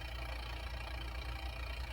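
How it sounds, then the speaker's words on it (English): A 1940 Frigidaire refrigerator compressor running, a quiet low steady hum with faint pulsing, close and continuous, with no voices. "But here's the sound of the compressor."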